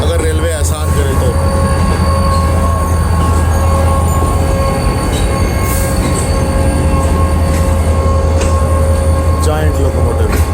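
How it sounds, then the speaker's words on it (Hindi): A locomotive-hauled express train on the Green Line between Margalla and Karachi runs loudly and close by, with a constant rumble, wheel squeal and steady rail noise throughout. "Giant locomotive."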